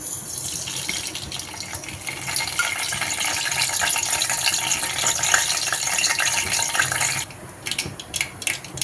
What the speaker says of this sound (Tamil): கடகு சோம்புலாம் நல்லா பொரிஞ்சிருச்சு